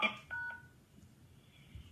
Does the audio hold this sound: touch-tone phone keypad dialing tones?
yes